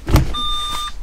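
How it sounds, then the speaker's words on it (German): A parking distance sensor on an Opel Astra G gives one steady, unbroken electronic tone in reverse gear with nothing behind the car, following a short thump. "Hört ihr es? Er piept dauernd."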